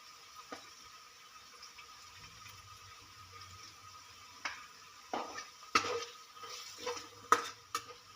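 Turmeric and chilli powder stirred into a pan for a spicy Maharashtrian green bean dish: quiet low sizzle with intermittent spoon scrapes and clinks against the pan, growing busier toward the end.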